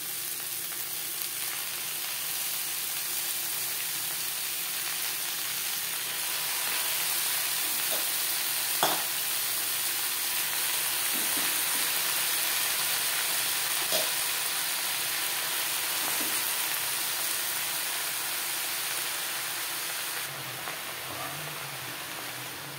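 Chopped note greens stir-fry in a pan with a steady, hissing sizzle, broken by a few sharp scrapes and taps of a spatula.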